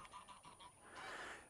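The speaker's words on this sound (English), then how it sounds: "and you get all these birds" Geese honk at Hornsey Mere lake in a quick series of faint, distant calls followed by a brief burst of flapping or splashing.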